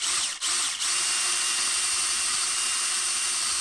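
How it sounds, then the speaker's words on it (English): A power drill bores sideways into a piece of wood for a bushcraft rocket stove, a steady continuous whir held close and loud, with a brief dip in the motor early on. "I'm going to try to drill in from the side."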